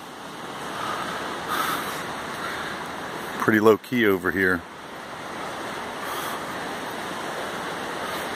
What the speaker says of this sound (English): There's the broad Pacific.